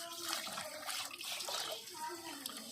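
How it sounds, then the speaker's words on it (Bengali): Water runs from a pipe as rohu fish are washed directly under it, producing a continuous splashing flow close by, with a person talking over it. "সেটা থেকে ফট করে বের করে ও এখন মাছ ধুচ্ছে ডাইরেক্ট"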